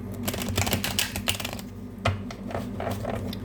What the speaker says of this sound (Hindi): तो एक बार और शफल कर लेते हैं